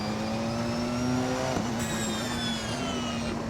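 A Porsche 919 race car engine in the Assetto Corsa racing game holds a steady, loud, buzzing drone that briefly dips and shifts pitch partway through before settling again. No one speaks.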